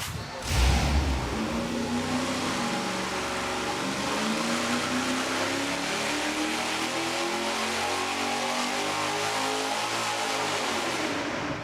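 Boosted engine fitted with headers running under load on a dyno: a loud, sustained shrieking roar that rises at the start and holds steady at high revs before tapering at the very end.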